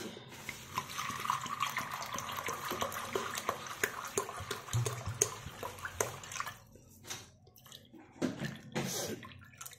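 Water poured from a tight-capped drinking bottle over a dish with a few nuts, splashing and spilling around, heard as continuous close pouring and trickling with drips that thin out toward the end.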